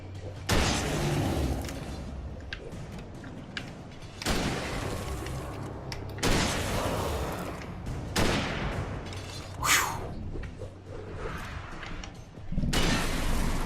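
Gunfire in the Alan Wake video game, repeated bursts of shots and booms in several loud clusters across the stretch, with game noise and a voice speaking underneath.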